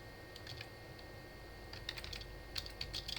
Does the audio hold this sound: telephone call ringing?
no